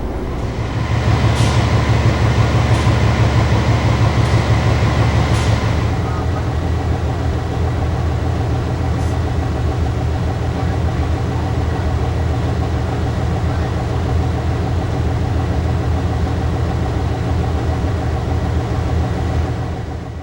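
Diesel locomotive 321 running at the sixth notch, a loud, steady heavy engine drone with a deep throbbing rumble that holds for the whole stretch, shifting slightly in tone partway through, with no talking.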